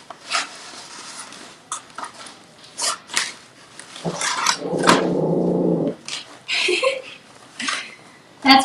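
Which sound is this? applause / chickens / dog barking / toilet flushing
dog barking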